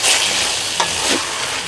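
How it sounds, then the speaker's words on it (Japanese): Miso fries and is stirred at the edge of a copper pot while making pork miso soup, a steady close sizzle with brief scraping stir sounds and no talking. "ここの味噌だけ炒めてるんですけれども"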